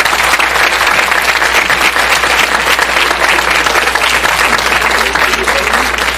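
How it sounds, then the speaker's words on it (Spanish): Loud, sustained applause from a seated academic audience, a thick uniform roar of many hands clapping close to the microphone, with a low hum underneath. "Le damos un aplauso, por favor"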